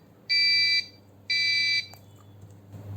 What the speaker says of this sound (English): So this looks like a good buzzer